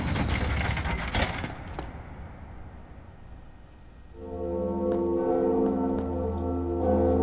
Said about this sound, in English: The second bell. We rang the second bell.